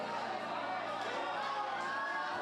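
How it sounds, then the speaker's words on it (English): A crowd cheers steadily at a Dock Masters 2026 climbing semi-final, a continuous wash of voices at even loudness throughout, with commentary under the noise. "Crowd letting them know."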